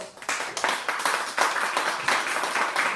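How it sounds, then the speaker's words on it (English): An audience at a university colloquium at VU Amsterdam applauds to welcome the speaker, with moderately quiet clapping in distinct, pulsing bursts, as from a modest-sized group. "Applause!"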